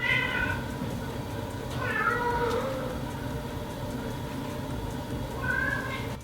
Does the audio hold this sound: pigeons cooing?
no